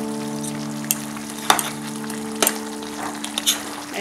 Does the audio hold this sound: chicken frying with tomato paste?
yes